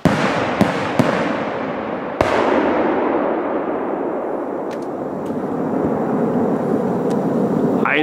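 Viper Rocket Classic fireworks are launched four at once outdoors, giving a few sharp, loud bangs. A long, roaring whoosh follows and carries on steadily to the end, with faint distant pops mixed in.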